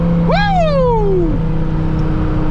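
A 1999 Hennessey Viper ACR drones loud and steady at full throttle, close by, while a voice lets out a rising and falling whoop over the engine.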